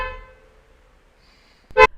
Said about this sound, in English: you can hear the cars honking in the background